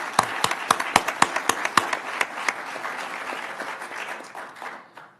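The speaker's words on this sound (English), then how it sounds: "I just want to thank you personally and give you a round of applause." Applause at a Shasta County Board of Supervisors special meeting: a few sharp, close claps lead into a smaller round of clapping that thins and fades out within seconds.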